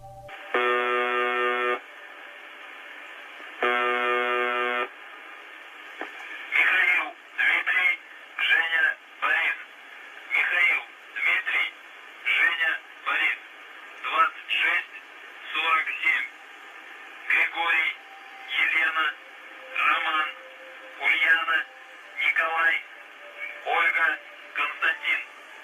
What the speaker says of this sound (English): The creepy and sometimes incoherent broadcasts from